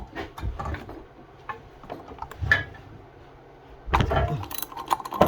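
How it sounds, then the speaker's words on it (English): A regular ratchet working on the crank nut of a Honda Gx160R engine during flywheel removal, with scattered close clicks and metallic handling noises, quiet at first, then a louder burst of clattering toward the end. "Regular ratchet, nothing fancy, no extensions."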